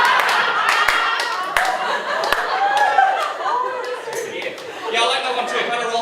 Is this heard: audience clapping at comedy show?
yes